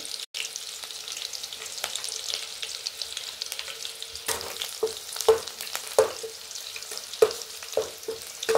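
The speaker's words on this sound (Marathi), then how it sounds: "कढीपत्ता आणि मिरची तळल्यानंतर" Green chilies and curry leaves frying in oil for cucumber and coconut poha, with a steady close hiss and scattered sharp pops and spatters that grow busier toward the end.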